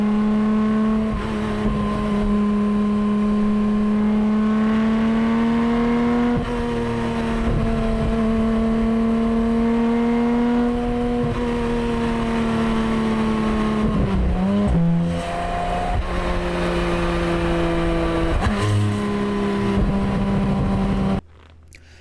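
A Porsche 718 Cayman GT4 RS engine revs loudly and close for over twenty seconds, its steady, bike-like drone dipping and climbing briefly near the end before cutting off.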